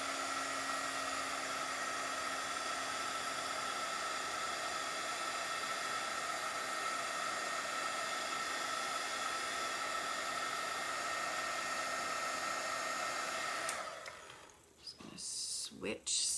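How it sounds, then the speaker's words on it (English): Embossing heat tool blowing steadily over powdered ink on a handmade card, a loud continuous hiss with a faint whine that runs unbroken, then cuts off abruptly near the end. "I'm going to emboss this with the heat tool"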